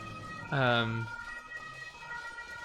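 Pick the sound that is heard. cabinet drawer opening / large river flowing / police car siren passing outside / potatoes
police car siren passing outside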